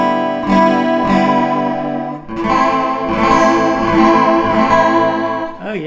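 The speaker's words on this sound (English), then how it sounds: "And then over here is some chorus." Tones played through a guitar effects pedal fed by a contact mic with chorus engaged: loud, sustained and shimmering, with a thickened wavering quality and a brief gap partway through.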